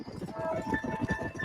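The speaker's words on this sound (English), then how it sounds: "Leave the horses here and follow me." Horse hooves clip-clop in steady, quick rhythm in the Xbox 360 Western game Red Dead Redemption as riders travel through rough country. The hoofbeats are fairly close and play under quiet voices.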